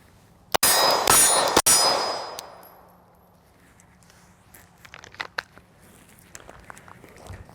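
Rounds from a 9mm handgun strike concrete cover in a few sharp, loud cracks with a metallic ringing clang, followed by quieter scuffing and faint knocks.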